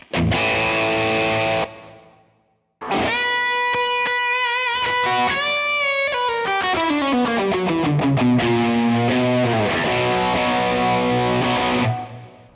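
An electric guitar runs through a clone-style or BB preamp overdrive pedal with a Greer Lydian boost, giving loud driven chords and sustained notes, then a short gap, then a long ringing phrase with sliding bends, alone without any voice.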